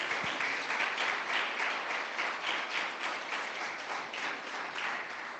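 A church congregation applauds together during a Christmas Sunday sermon, a dense steady wash of clapping that holds at an even level from start to finish and fades slightly toward the end.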